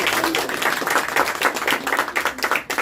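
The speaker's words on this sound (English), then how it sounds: "Let us give a round of applause." A small audience at a children's recitation and speech competition claps, a brisk scattered patter of hands that stays fairly close and tapers unevenly near the end.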